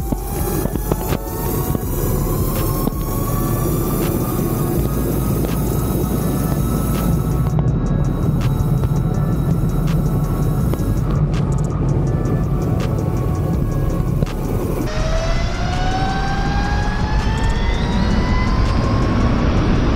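A 72V Razor SX500 electric street bike makes a speed-test pass, heard as a loud, continuous rising motor whine with heavy wind roar, the pitch climbing and shifting as it accelerates.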